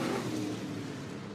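Race cars on the racetrack at the Jackson 100 event: a steady, fairly loud engine roar that holds without a break and fades only slightly by the end.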